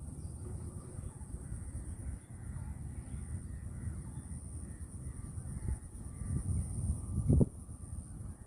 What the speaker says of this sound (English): and there's a bird song.